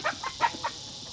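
Chickens squabbling in a fight on a rural property, heard as a few short, agitated clucks and squawks in a quick burst, moderately near, with quiet background and no talking.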